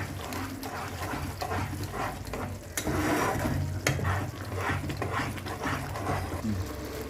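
Cumin and coriander powder get stirred in a frying pan for an egg curry, producing a continuous scraping, rustling stir over a low sizzle with a brief louder clatter midway and no talking.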